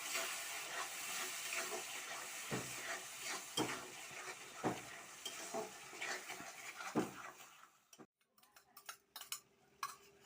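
Raw banana kofta curry sautéing in a pan, a close steady hiss and sizzle broken by intermittent scraping stir strokes, with sharper clinks toward the end.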